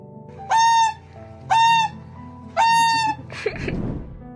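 A goose honks three times in a steady rhythm, loud and close, followed by a burst of rustling or flapping.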